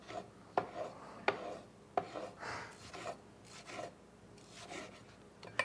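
A kitchen knife slicing a tomato into thin slices, a series of crisp cutting taps roughly every half second to second, each followed by a soft rubbing stroke, close and quiet.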